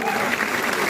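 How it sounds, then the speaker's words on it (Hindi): Dense applause from an audience at a youth promotional event in Guwahati, steady and fairly loud for under a second with no break. "एक बार आप लोगों के लिए जोरदार तालियां।"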